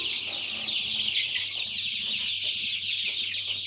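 Young chicks cluck and cheep around a homemade feeder, scattered soft calls under a bright steady chirping chorus, close and continuous without talk.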